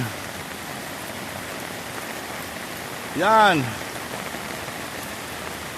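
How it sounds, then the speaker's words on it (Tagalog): Steady heavy rain hissing on surfaces throughout, with a brief spoken word rising over it midway. "ang tindi ng ulan"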